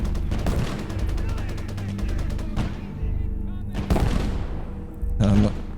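A machine gunner fires long, rapid bursts in a Gates of Hell World War II battle, loud and close, with brief breaks and heavier gunshots and explosions mixed in.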